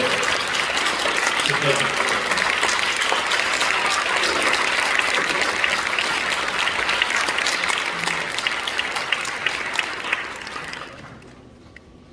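An audience at a Korean church commemorative worship service for the 78th Liberation Day, held in a large auditorium, applauds in sustained, dense clapping for about eleven seconds before it fades out. A voice speaks briefly over the clapping.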